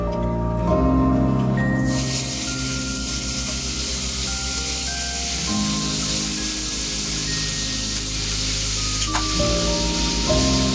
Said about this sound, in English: After the lemons are done, add about 1/4 stick of butter to the pan.